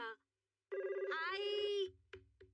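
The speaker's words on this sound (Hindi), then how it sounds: "किसका फोन होगा?" A cartoon telephone rings with a bright electronic trill in a Hindi-dubbed Shinchan episode, one short burst, a pause, then a longer ring with soft background music beneath.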